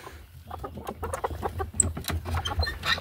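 Several young chickens and hens cluck and murmur close by outdoors in a busy, irregular patter, with a few higher peeps mixed in.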